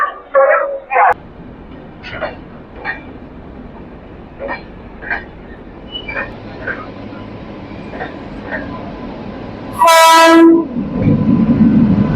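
A train pulls into a station at Asansol, its carriages rumbling and clattering before one loud, sustained horn blast near the end. People talk over the rumble.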